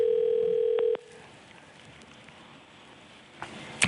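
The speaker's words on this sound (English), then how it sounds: "let's call Ryan from New York, New York." A telephone dial tone holds steady and loud for about a second while placing a call to someone in New York, then cuts off, leaving quiet room noise and a faint click near the end.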